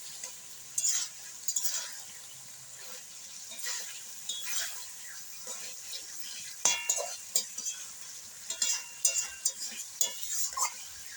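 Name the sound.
pork being stir-fried (kosha) in a pan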